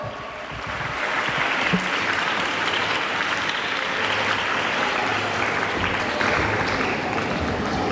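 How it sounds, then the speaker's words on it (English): An audience at the Sharjah International Book Festival breaks into loud, sustained applause, many hands clapping in a thick steady roar that swells after the first second and keeps up throughout. "let's give them a huge round of applause"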